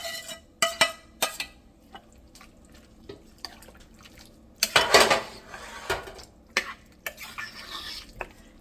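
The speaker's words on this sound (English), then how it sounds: "I'm going to mix it up and with my beans" Red beans in a pot being stirred together with sautéed onions and garlic, giving irregular clanks and scrapes of a utensil against the pot with soft wet sloshing between them, close by with no talk.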